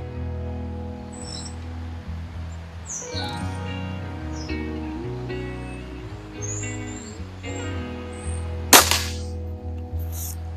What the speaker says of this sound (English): we're going to take 5 shots, 25 yards, with the Hatsan Model 95 spring-powered air rifle.